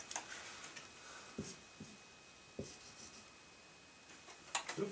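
A pencil writing on paper, faint scratchy strokes and a few soft taps close by in a quiet room, with no voices.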